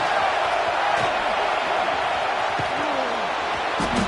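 A stadium crowd at a football game makes a loud, steady roar that fills the whole stretch, with scattered shouts rising out of the wash of noise.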